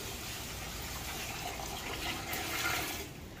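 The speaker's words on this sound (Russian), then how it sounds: "Мы залили сиропом, получается, тепленький" Warm sugar syrup poured onto crushed grape must for homemade wine, a steady gushing, splashing pour that stays level for several seconds and eases off at the end, fairly quiet.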